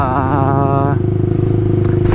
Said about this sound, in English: after I bought this bike, the Kawasaki Ninja